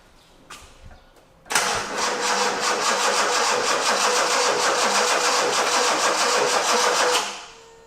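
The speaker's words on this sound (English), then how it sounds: "If I press this clutch and hit that key, does the motor spin over?" A Datsun 280Z engine, left sitting 20 years in a garage, cranks and catches, a steady rattling mechanical roar that runs loud and close for several seconds before cutting off, with faint clicks beforehand.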